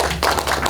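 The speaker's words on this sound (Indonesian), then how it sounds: "boleh berikan tepuk tangan teman-teman semuanya" A group of people at a motorsport team announcement clap together in a short burst of close, dense applause.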